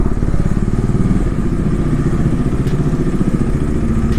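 A motorcycle with an engine sound problem idles steadily up close at night with a low, pulsing rumble while being moved indoors, and a few clattering thumps and knocks come over it.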